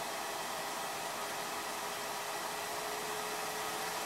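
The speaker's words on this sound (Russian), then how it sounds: "как увеличиваются обороты вентилятора" An electric fan built for a solar collector roars with a loud, steady, broadband whoosh of moving air, close and continuous with no talking.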